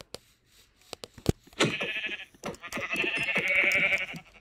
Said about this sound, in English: Wait, I just heard sheep.